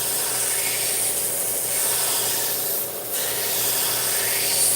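A knife bevel ground back and forth against an abrasive, a continuous rough rasping hiss that swells and eases with each stroke, close and steady with no talk.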